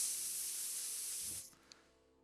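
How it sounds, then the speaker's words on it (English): An egg frying in a pan, a loud steady sizzling hiss that cuts off abruptly partway through, followed by near silence and one faint short click. "She starts frying up an egg."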